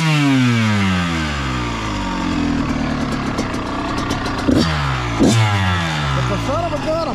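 A Kawasaki KX 112 dirt bike engine revs hard and loud close by, climbing and dropping in pitch through several sharp throttle blips over a steady idle.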